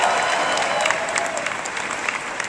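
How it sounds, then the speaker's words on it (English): An audience at a Comic-Con 2011 evening Q&A panel applauds in a dense, continuous wash of many hands clapping, steady and fairly loud throughout. "I have very weird feelings about people applauding that"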